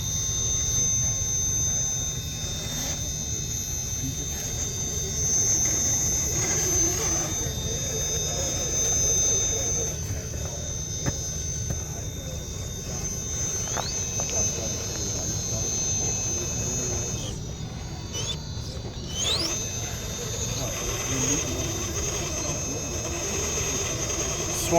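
An RC rock crawler with an outrunner electric motor runs on a quarry hill trail, its high, sustained whining scream steady throughout, mixed with rumbling outdoor noise and faint background activity.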